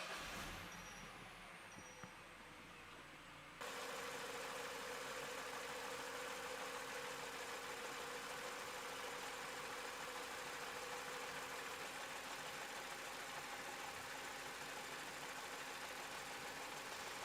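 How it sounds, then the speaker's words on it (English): An older Citroën C4 engine idles while warming up, with a slightly rough running condition. A steady, droning idle hum sets in after a brief quieter start and holds evenly to the end. "We'll let the engine warm up."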